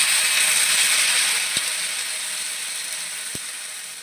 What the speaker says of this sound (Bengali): এখন এর মধ্যে জল দিয়ে দিচ্ছি বেশি জল দেবো না ভালো করে দেবো